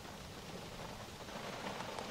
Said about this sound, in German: Regen, Sturm.